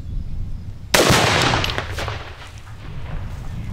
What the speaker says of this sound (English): I'm going to shoot to the left just a hair.